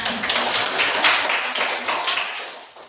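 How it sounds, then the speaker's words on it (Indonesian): Classmates clap hands in a school history lesson, a dense patter of many hands that stays loud and steady, then thins and fades out toward the end. "Oke, tepuk tangan"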